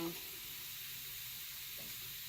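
Seasoned marinated mushrooms sizzle steadily in a hot pan, a constant close hiss with no pauses and no talking.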